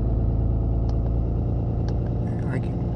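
A 6.7L Cummins diesel engine runs at high idle close by with a steady, deep, throbbing rumble and a few faint clicks over the top.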